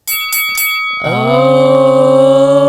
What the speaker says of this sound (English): The clock went off.